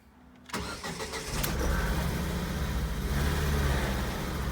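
A car engine cranks and fires with a misfire, then settles into a loud, close, rough idle with an uneven, stumbling rhythm.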